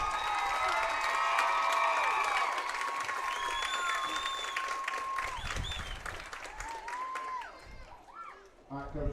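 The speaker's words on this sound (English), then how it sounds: "How about a round of applause for your Hector Wildcats?" Crowd applauding and cheering for a youth football team at an Arkansas River Valley youth football championship, dense sustained clapping with whoops and shouts, loud and close, tapering slightly toward the end.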